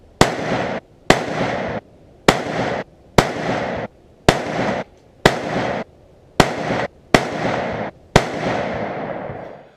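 Rifle shots fired in a measured series, nine loud sharp cracks at roughly one-second intervals, each followed by a short echoing tail, close and without talk.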